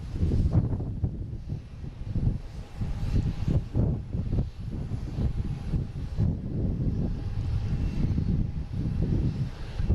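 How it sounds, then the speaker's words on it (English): Jet aircraft landing and taking off at Boston Logan International Airport, heard from a distance as a steady low engine roar with wind rumble, continuous and moderately loud, with no talk. "4 right for landing, and 4 left for landing as well. And 4 right for some of the bigger planes taking off"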